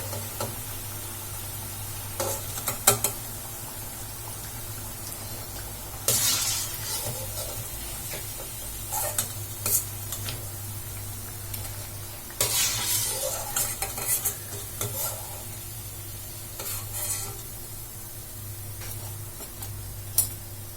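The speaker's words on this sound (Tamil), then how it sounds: "இப்போ எல்லாத்தையுமே வந்து திருப்பி போட்டுட்டேன் இன்னொரு பக்கம் நல்லா வந்து ஃப்ரை ஆகட்டும் ஆயில்ல" Bonda snacks deep-frying in hot oil after being turned, a continuous low bubbling sizzle broken by sharp clinks and scrapes of a ladle at scattered intervals, close by and with no speech.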